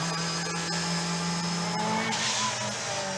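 A Group B rally car with a supercharged and turbocharged engine roars steadily at high load, a loud continuous drone with a brief rising whine and some tire noise, running alone without voices.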